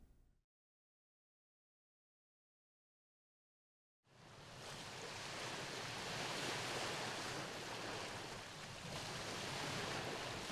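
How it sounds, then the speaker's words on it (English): After several seconds of near silence, Lake Superior waves break onto the sandy beach of Frog Bay Tribal National Park in a steady, continuous wash of surf that holds on to the end. "As waves off Lake Superior gently break onto the sandy beach of Frog Bay Tribal National Park"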